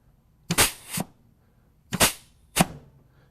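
Compressed air is applied to the BR clutch of a transmission, making three sharp, hissing blasts with a soft thump as the clutch engages, heard close up against a quiet background.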